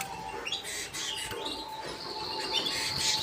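Canaries in a breeder's aviary chirp and tweet in scattered, overlapping calls at moderate distance under a steady background hum.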